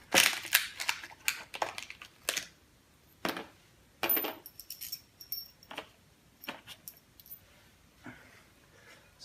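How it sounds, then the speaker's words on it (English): Metal bolts for mounting a PowerBlock chin-up bar are picked up and handled, producing sharp, close clinks and jangles in scattered bursts with quiet gaps between them. "So let's get a couple bolts and put it on there."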